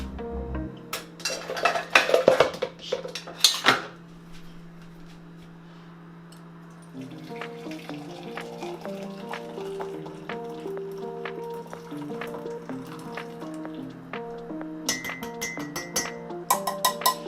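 Kitchen dishes clink sharply near a mug, then homemade ginger tea trickles and drips steadily through a strainer for several seconds, with a few more clinks toward the end.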